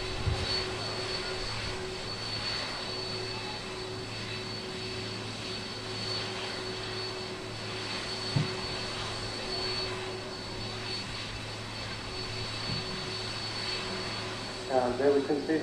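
Boeing 747 jet airliner taxiing for departure at Manchester Airport, a steady distant engine whine and rumble held throughout, with a few faint thumps and a brief burst of noise near the end.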